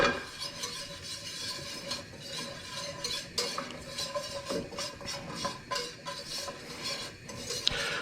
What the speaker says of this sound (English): whisk in my flour mixture